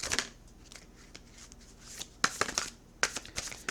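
Tarot cards are shuffled close by in quick riffling bursts and soft slides, with sharper snaps as a card is drawn.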